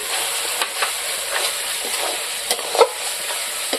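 Spice paste sizzling and frying in oil with yogurt in a pan for rui fish kalia, a steady hiss with a few soft stirring clinks and scrapes, close and moderately loud, no talking.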